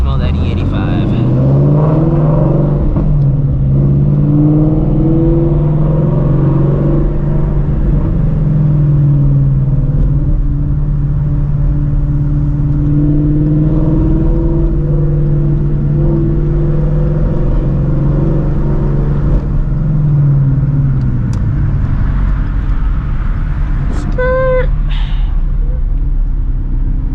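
A Shelby GT350 with a new twin-disc clutch, running on E85, pulls away from a stop with a steady, loud engine drone from inside the cabin that rises slightly and then settles before easing off.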